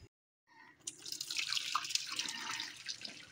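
Boiled purple sweet potatoes being drained in a kitchen sink, with a steady rush of hot water pouring and splashing into the basin after a brief silence, close and continuous, with no talking.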